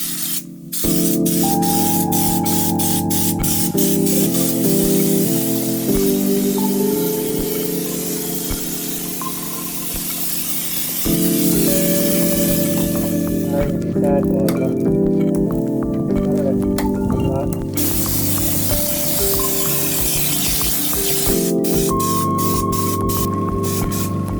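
Continuous loud hiss of a spray gun painting an old Toyota in a professional spray booth, over a steady mechanical hum from booth fans, with brief breaks and restarts, close to the microphone.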